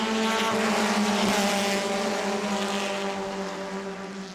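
Race cars circle the New Smyrna Speedway track during a Hoosier Series event, their engines a sustained, droning roar with a steady pitch that swells slightly and then slowly fades as the pack moves away; no voices.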